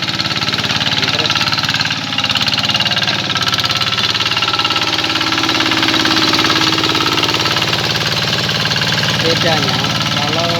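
A used hand tractor engine runs steadily in a rice paddy, a loud continuous chugging drone close by throughout, with a person talking over it.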